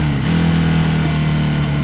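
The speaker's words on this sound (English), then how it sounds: "I let the engine slow me down" Honda motorcycle engine braking during a ride, a steady low drone from the engine under deceleration, close and continuous with wind noise.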